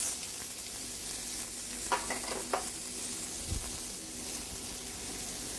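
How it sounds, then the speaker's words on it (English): Onions sizzling in blended oil or olive oil in a pan for vegetable samosas, a constant close frying hiss with a few brief stirring clicks and scrapes. "Now in a separate pan, we're going to take a little bit of blended oil or olive oil. We're going to add our onions."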